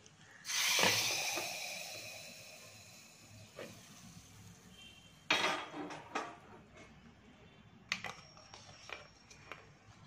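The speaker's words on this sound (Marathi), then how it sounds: "फोडणीच्या आधी मिरपूड घालते आणि मग फोडणी ओतायचे त्यामध्ये" Hot tempering of cumin and asafoetida is poured over ground pepper into raw mango saar, giving a sudden loud sizzling hiss that fades over a few seconds, followed by scattered clinks and short bursts of hissing.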